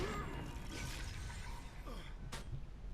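A chronomancer's shatter skill fires in Guild Wars 2, a bright glassy crack with a sharp burst near the end, preceded by faint mechanical whirring and clicking effects at low level.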